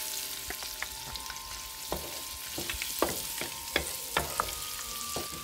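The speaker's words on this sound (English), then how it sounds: "add that to this mixture, this butter olive oil mixture. And you want to stir that in nicely." Shrimp stirred into a hot butter and olive oil mixture in a pan, a steady sizzle with a series of sharp scraping and clinking stirring strokes, close and without talk.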